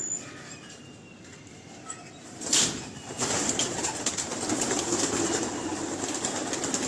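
A flock of pigeons takes off with a sudden burst of flapping wings, followed by continuous fluttering and wingbeats over a quiet outdoor background.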